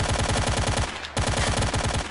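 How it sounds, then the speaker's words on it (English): Rapid automatic gunfire rattles in the video game STALKER, two dense bursts of close, loud shots split by a short pause. "I was shooting him there."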